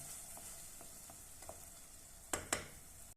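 Tomatoes being stirred through sauce in a hot pan, soft scraping and light sizzling with a few faint taps, then two sharper scrapes near the end, quiet and close.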